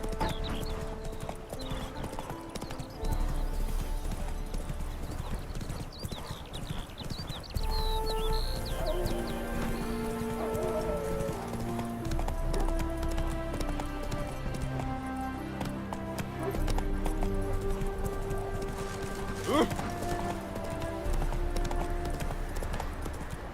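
Roach, a horse in The Witcher 3, clip-clops along in steady hoofbeats with a brief whinny, set against continuous game music throughout.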